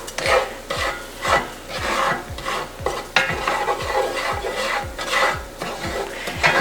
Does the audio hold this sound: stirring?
yes